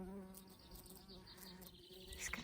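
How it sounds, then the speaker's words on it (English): A bee buzzing among garden flowers, a close, steady droning hum with harmonic overtones that waver as it moves, faint and continuous, with no talking. "hello, busy bee"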